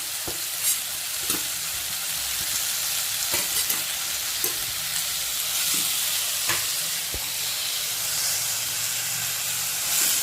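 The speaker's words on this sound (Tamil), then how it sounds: "இப்போ இது வந்து நம்ம வதக்கிக்கலாம்." Cabbage, beans, carrot and potato sautéing in a pan, with a steady close sizzle and occasional scrapes and taps of stirring throughout.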